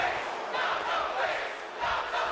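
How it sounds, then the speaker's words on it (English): A wrestling arena crowd chants in unison, a loud, steady roar of many voices swelling and dipping across a couple of seconds. "You can hear the crowd chanting, "Not the face.""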